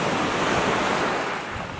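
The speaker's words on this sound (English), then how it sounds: "beach side, so it's noisy" Rough ocean surf breaking on a beach on a windy morning, a steady loud wash of waves with wind rumbling across the microphone, no voices.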